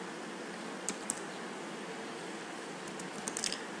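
Rapid typing on a computer keyboard, a steady run of soft close-up keystrokes over a hiss of background noise, with a few sharper clicks standing out near the start and end.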